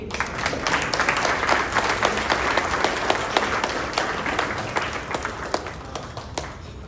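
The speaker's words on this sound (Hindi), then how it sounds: "जोरदार तालियां हो जाए" Indoor audience at a spiritual discourse breaking into sustained applause, dense overlapping hand claps with sharp individual claps standing out, fairly close and steady for several seconds before thinning slightly.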